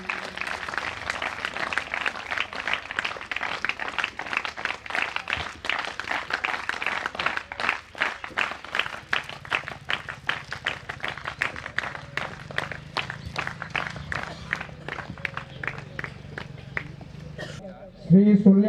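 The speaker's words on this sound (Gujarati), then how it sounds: "તાળીઓ પડી જોઈએ." Sustained applause from an audience at a village school function in Gujarat, steady rhythmic clapping for many seconds before a loud voice breaks in at the very end.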